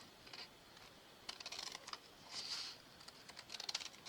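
Scissors make soft, quick crisp snips while trimming a strip of paper for stamping, faint and close in a quiet room.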